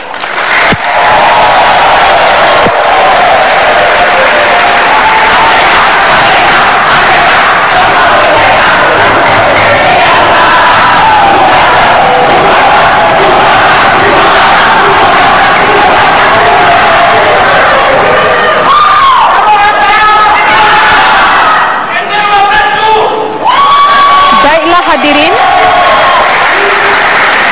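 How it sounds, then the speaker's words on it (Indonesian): Loud, sustained applause and cheering from a debate audience at a 2014 Indonesian vice-presidential debate, with whoops and shouts filling the hall for nearly half a minute. A voice breaks in over the noise near the end. "saya persilakan untuk memberikan aplaus yang meriah"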